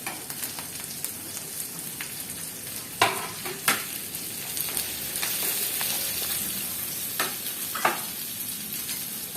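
Sliced onion, green chilli and curry leaves sizzle steadily in a hot pan for a cowpea and plantain thoran, with a few sharp scraping stirs breaking through the continuous frying hiss.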